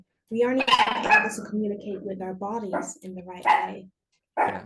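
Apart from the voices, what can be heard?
dog barking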